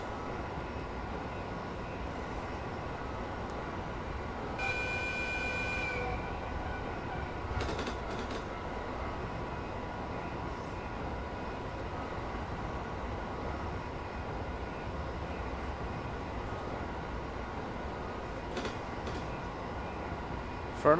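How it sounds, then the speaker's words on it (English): An all-stations train running fast on a Japanese line in Train Simulator Classic, a steady low rumble of wheels and motors with faint rail clatter, a brief tonal chime and a few clicks over the continuous drone. "For an all stations train, this train's going pretty quick."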